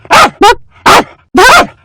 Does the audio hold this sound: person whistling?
no